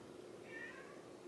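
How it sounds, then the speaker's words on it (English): A cat gives a single short, faint meow in the background of a quiet indoor room, heard briefly over low steady ambient noise. "can hear my cat in the background."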